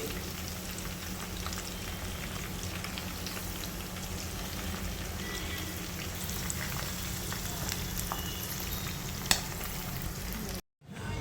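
Chicken pakodi, Andhra style, frying in oil on high heat, giving a steady, close sizzle and crackle throughout with no talk, with a brief gap near the end.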